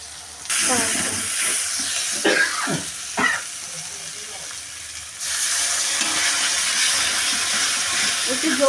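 A splash of water hits a hot pan of frying onion masala for chilli chicken, a loud continuous sizzle that cuts out, then bursts back into a steady hiss, with brief voice-like chirps scattered through the early part.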